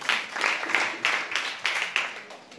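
Students in a classroom clapping for classmates, about eight short bursts of group applause in an even rhythm, moderately close.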